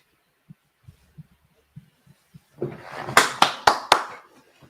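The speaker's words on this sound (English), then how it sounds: "Don't know why I'm clapping like I'm playing" A person claps hands a few times while watching a live Liverpool versus Real Madrid football match, several sharp, close, loud claps in quick succession after softer scattered taps, with no talking.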